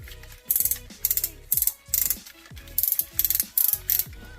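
Plastic ratchet joints on a Magic Square MS-02 transforming robot toy click close up in quick bursts of three to five sharp clicks, repeated about eight times, with no talk.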